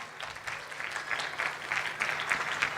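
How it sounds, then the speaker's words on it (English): An audience at a fundraising dinner applauds the new Consul General of India with a steady wash of clapping that swells slightly toward the end. "Big round of applause."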